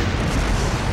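A bomb blast in the Naruto Shippuden Ultimate Ninja Storm 4 fighting game, heard as a dense, loud, continuous rumbling boom that fills the whole moment without any voices.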